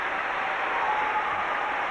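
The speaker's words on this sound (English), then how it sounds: "Prolonged applause, not just from the German contingent to our left, but right round the rink" A large ice rink crowd at the 1997 World pairs short program applauds, a steady, dense wash of clapping filling the arena without a break.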